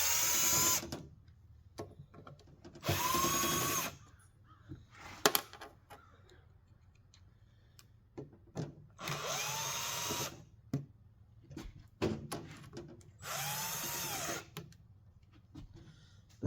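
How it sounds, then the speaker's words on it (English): A power tool backs screws out of an Anritsu Simrad radar display being taken apart for scrap, with four whirring bursts of a couple of seconds each, rising in pitch as they start, broken by clicks and handling noises, close up. "Okay, so we're just gonna take screws out."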